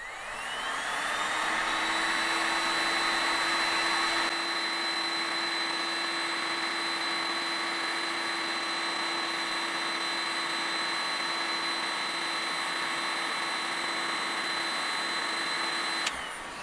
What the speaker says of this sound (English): we're going to be running the heat guns and seeing if they're able to char the outside of this wood at all